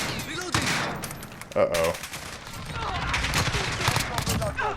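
Bursts of SIG SBR rifle fire in Call of Duty Modern Warfare crackle in rapid volleys through the clip, with a brief spoken exclamation between the shots.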